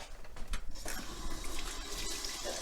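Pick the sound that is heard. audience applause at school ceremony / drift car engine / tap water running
tap water running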